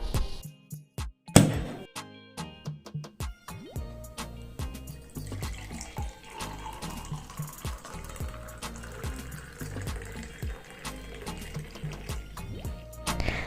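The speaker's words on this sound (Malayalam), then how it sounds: "ഇനി ഇത് ഓപ്പൺ ചെയ്ത് നമുക്കൊരു ഗ്ലാസ്സിലേക്ക് ഒന്ന് ഒഴിച്ചു കൊടുക്കാം." Homemade pineapple beer, a fermented non-alcoholic drink, splashes from an opened bottle into a glass, a close trickling pour with irregular splashes and gurgles after a sharp knock near the start, quiet overall with no voices.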